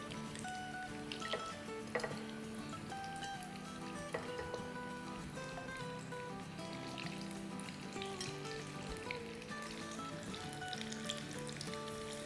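Kurkurai sizzle steadily while frying in a pan, with dense, quiet crackling and popping of hot oil throughout, sounding close and uninterrupted.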